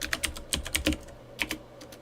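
Quick bursts of typing on a computer keyboard in a level editor's filter box, several close, crisp keystrokes in short uneven clusters with brief pauses between them.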